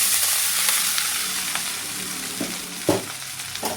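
Upma powder stirred into a pan of frying curry leaves, with a steady close sizzle under scraping and stirring strokes and a few sharper knocks of the spoon near the end.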